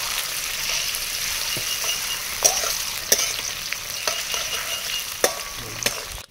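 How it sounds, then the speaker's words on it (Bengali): Chopped onions fry in oil in a wok with cardamom and cinnamon, giving a steady close sizzle broken by several sharp clinks and scrapes of a spatula stirring, with no talk. "এই কেটে রাখা পেঁয়াজটা দেওয়ার পরে পেঁয়াজটাকে একটু ভাজা ভাজা করে নেব।"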